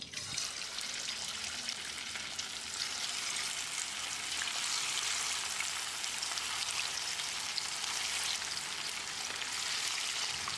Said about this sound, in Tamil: இப்போ இதை எண்ணெயில் பொரிச்சு எடுத்துடலாம்.